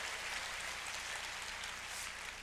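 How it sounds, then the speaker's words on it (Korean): Audience at a Christian teachers' conference applauds in thanks, a dense, steady wash of clapping from many hands filling the room for a couple of seconds without letting up. "감사의 박수 한번 드리죠"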